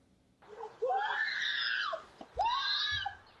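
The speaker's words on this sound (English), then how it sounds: "There is no narration, just the sound of the victim's screams as at least 3 people attack her." A woman screams in surveillance footage of a group attack on a lone woman on a Lakeview street in Chicago, with several long, fairly distant, piercing shrieks and a brief pause between.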